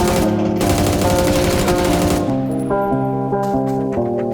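Automatic gunfire in the game PUBG, rapid bursts of shots layered over loud music with a steady beat, dense for the first half before the firing thins out.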